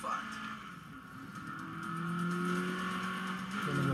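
A car in the video game State of Decay 2 starting off and accelerating, its engine rising in pitch and swelling steadily, moderately loud with a brief squeal near the end.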